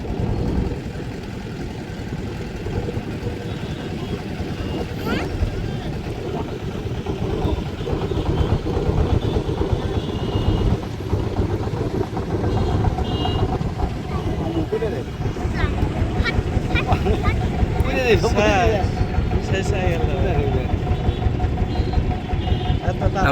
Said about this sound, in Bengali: বড় একটা নৌকা আসছে